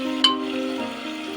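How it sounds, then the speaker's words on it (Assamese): Onions stirred and fried in oil for a beef liver bhuna, a short burst of sizzling with one scrape of the spoon near the start, then an even frying hiss. "পিঁয়াজখিনি লৰাই লওঁ"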